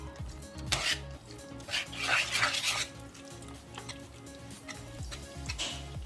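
A spoon stirs semolina appam batter in a pot, scraping and sloshing in uneven bursts against the metal, with brief clinks between strokes.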